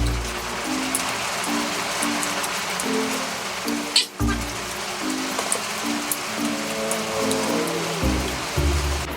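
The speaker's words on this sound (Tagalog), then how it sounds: "Tingala akong ngit-ngit, nibundak na yung ulan." Heavy rain pours down steadily in the dark of early evening, a dense, close hiss of drops drumming on surfaces that runs unbroken throughout, with a low hum beneath and one brief thump near the middle.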